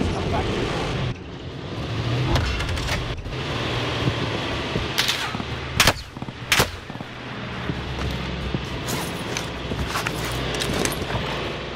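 Gunfire in an online battle-royale shooter game, with several sharp bursts of shots and impacts over a steady game ambience while a player talks.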